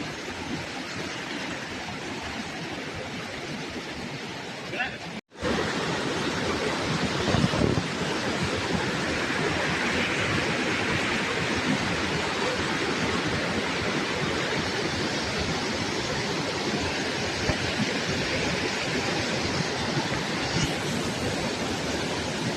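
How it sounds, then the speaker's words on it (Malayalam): A flooded river roars with heavy, continuous rushing water, loud and close, holding steady apart from a brief dropout near the start; no voices are heard. "ഭയങ്കര ശബ്ദം, അരമ്പുന്ന ശബ്ദം, ഭയങ്കര വെള്ളമാണേ"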